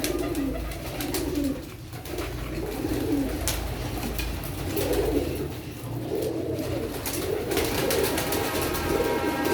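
Several pet pigeons coo near the listener in soft, throaty rolling phrases that repeat every second or two over a constant low background rumble, with no one speaking.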